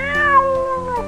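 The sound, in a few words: stray cats meowing, cartoon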